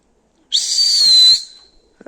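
A single loud, high-pitched whistle held steady for about a second, then cut off, followed by faint knocks.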